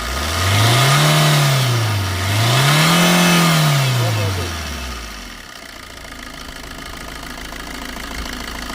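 A Maruti Swift VDI diesel car engine revs up twice in close succession, each rise and fall clear and loud, then settles back to a steady idle.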